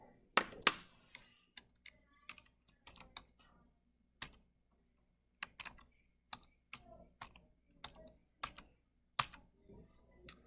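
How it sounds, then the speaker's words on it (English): Keys on a computer keyboard tap in scattered bursts, quiet and close, with short pauses between groups of keystrokes as an algebra expression is typed in. "Okay, so let me type that in."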